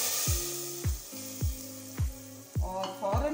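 Hot tadka tempering poured over mixed lentil dal, a series of four or five strong sizzling bursts, each flaring up and fading quickly, close and loud with no talking.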